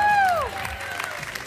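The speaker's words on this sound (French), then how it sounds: "Un tonnerre d'applaudissements pour nos ramoneurs du jour" Studio audience applause for a children's game show team, a modest round of clapping and crowd noise that begins as a falling sung or whooping voice cuts off.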